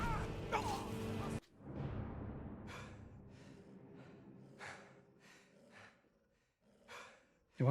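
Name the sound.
player character breathing heavily in video game Skyrim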